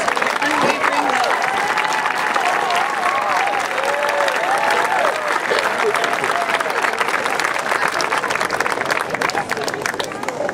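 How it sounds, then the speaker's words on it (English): Graduation ceremony crowd applauding seniors' parents, a sustained wash of clapping from a large audience that stays loud throughout, with a voice briefly audible early on. "Seniors, please give your parents a round of applause for your unwavering love."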